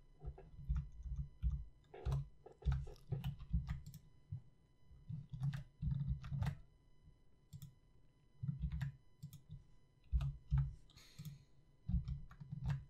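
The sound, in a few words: computer keyboard shortcuts being typed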